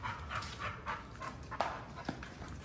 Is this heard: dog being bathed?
yes